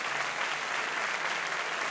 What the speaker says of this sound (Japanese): Every single black-suited guard applauded.